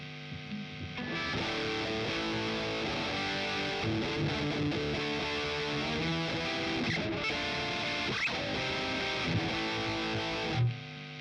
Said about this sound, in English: Metal distortion now